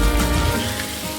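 Soaked sago is poured into a pan and stirred together with potatoes, giving a brief, loud burst of wet sizzling that eases off slightly within a second, with no voice.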